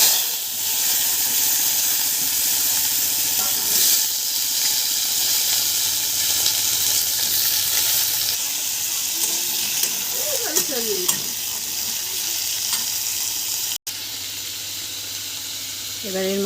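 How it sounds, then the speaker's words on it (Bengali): Chopped potatoes and greens sizzle steadily in hot oil in a wok, a dense frying hiss with occasional stirring scrapes, loud and close throughout. "এই তেলের মধ্যে আমরা কেটে রাখা সন্নাখাড়া ও আলু তুলে দেব।"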